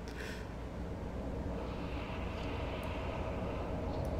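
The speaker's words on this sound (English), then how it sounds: "Oh, the plane's coming again." Plane flying over in the battle royale game H1Z1, a steady broad droning roar that holds at even loudness throughout with no break.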